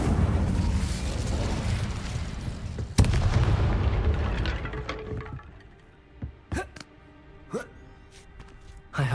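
Spellcasting in Hogwarts Legacy: a sharp magical blast at about three seconds cuts through dense, rumbling combat noise, which fades into a quieter stretch punctuated by several short bursts and crackles.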